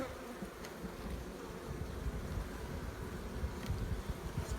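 Dense, continuous droning of many honey bees buzzing close by at an open hive, steady and low, with no voices.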